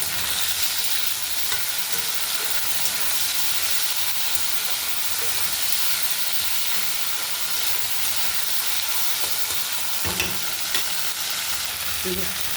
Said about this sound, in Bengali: আলুটা ভাজা হয়ে গেছে। ভেন্ডিটা দিয়ে দিয়েছি।